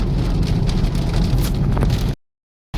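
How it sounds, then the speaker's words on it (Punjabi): Strong storm with driving wind and heavy rain beating on surfaces outdoors, a dense roaring wash that continues steadily and then cuts off abruptly near the end. "ਤੋ ਲੋ ਜੀ ਇੰਨਾ ਤੇਜ਼ ਤੂਫਾਨ ਹੈ"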